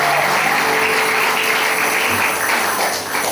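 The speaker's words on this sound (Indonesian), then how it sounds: "Tepuk tangan buat Tuhan." A church congregation claps together in a steady, dense wash of applause that fills the room from start to finish, with no voices standing out.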